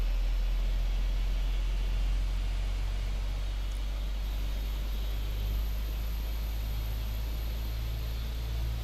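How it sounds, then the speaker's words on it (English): Aircraft engines spooling up in Microsoft Flight Simulator 2020, a steady low rumbling drone with broad hiss holding even for several seconds, no talk over it. "Hear those engines start to purr up."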